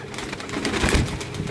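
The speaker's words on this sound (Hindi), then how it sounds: "ये जी ये हमारे अली वाले कबूतर हैं" Pigeons at a pigeon club coo in soft, low throaty calls close by, a brief burst of cooing mixed with light rustling and background bird chatter.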